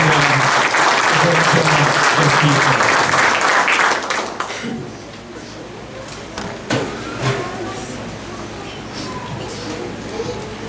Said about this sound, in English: give Jameer a big round of applause